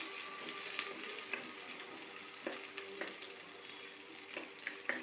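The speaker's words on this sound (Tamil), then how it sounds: "ஒரு சின்ன வெங்காயம் கட் பண்ணி வச்சுருக்கேன், அதையும் சேர்த்துக்குங்க. நல்லா வதக்க விடுங்க." A cut small onion sautéing in a pan while cooking greens, giving a steady soft sizzle with occasional stirring clicks and scrapes, close by and with no talk.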